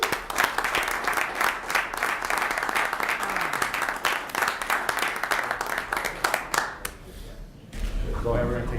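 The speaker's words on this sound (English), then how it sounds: "Give them a round of applause." Audience applause at a village board meeting in Westmont honoring a local business award winner, a dense sustained round of clapping from a roomful of people that tapers off near the end.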